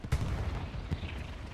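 Gunfire crackles during a tank battle in Hell Let Loose, two or three muffled, booming shots landing as faint, distant thumps over a low rumbling backdrop.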